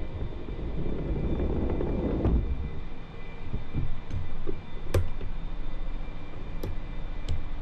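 An aircraft launching in the DCS flight simulator game gives a steady engine roar with a brief louder whoosh, overlaid by scattered sharp keyboard clicks, with no speech.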